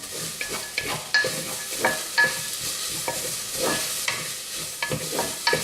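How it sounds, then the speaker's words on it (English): Onions and garlic fry in a pan for spaghetti bolognese, giving a steady close sizzle broken by repeated scraping stirs, with no talking. "So what I'm going to do now is add in the garlic, and I'm going to fry that off for another couple of minutes."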